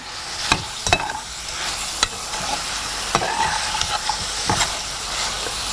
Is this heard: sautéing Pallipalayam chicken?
yes